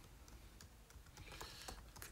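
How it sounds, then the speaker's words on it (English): Someone types on a computer keyboard in quick, irregular key clicks, faint and low in level against a steady background hiss, with no voices. "I'm typing into my account"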